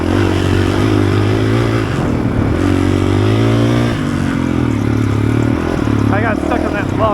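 A Honda CRF450RL enduro motorcycle rides through sandy trail terrain, its engine droning steadily with shifting revs and occasional clatter, while a rider talks over the motor throughout.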